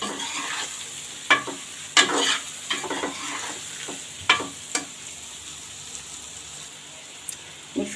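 Boiled black-eyed peas being mixed into a cooked masala in a pan, a soft simmering sizzle under repeated wet spoon scrapes and clunks that come in irregular bursts, close by.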